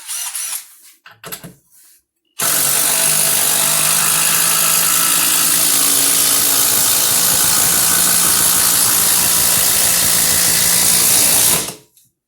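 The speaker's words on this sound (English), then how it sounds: "the DeWalt's chugging along just a little bit quicker" DeWalt 12V Xtreme power tool running continuously for about nine seconds, a loud, steady mechanical whir with a rhythmic chugging under it, preceded by a few brief clicks and handling noises before it starts.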